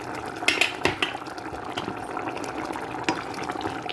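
Chicken curry simmering in a pot, with a soft, continuous bubbling and a few sharp clinks of a spoon near the start, all fairly quiet and close.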